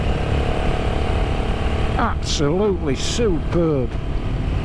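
A Royal Enfield Himalayan 450 motorcycle climbs a very steep hill in fourth gear, its loud, steady engine drone mixed with wind rush throughout while someone speaks briefly over it.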